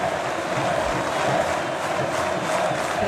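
A huge crowd of Vasco fans roars steadily in a football stadium, cheering a departing player, a dense, continuous wash of distant voices with no breaks.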